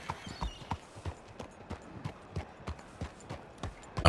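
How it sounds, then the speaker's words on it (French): Horse hooves clip-clop in a steady, moderately paced walking rhythm, fairly close and clear, with quiet background and no talking. "C'est pas le cheval de Zul, ça"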